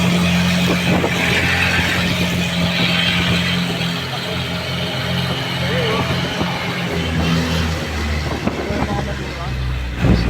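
Congested highway traffic in Manila heard from inside a slow-moving vehicle: idling engines, passing motorbikes and a steady road rumble, with someone talking throughout.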